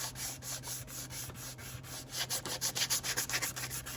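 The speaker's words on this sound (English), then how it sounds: "I recommend taking sanding block or some sandpaper and just scuffing" Sandpaper scuffs a metal bending block used for jewelry ring making, giving quiet, close rubbing strokes in a rough back-and-forth rhythm that grows quicker and more regular toward the end.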